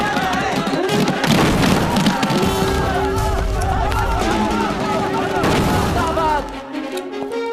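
A bomb blast goes off inside a legislative assembly hall, with heavy booming bursts and rattling debris followed by shouting crowd voices and continued rumbling commotion.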